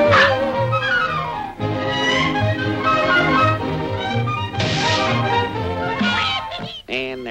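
Cartoon dog yipping and whimpering, from a Walt Disney coyote cartoon: squeaky yelps and whiny cries in short bursts mixed with voiced sounds, loud and close.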